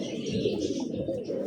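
A pigeon coos close by, a low continuous rolling murmur filling the brief moment.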